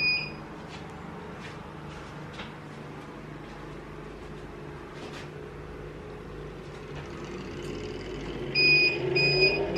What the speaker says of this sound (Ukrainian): О, тепер пікає, все нормально.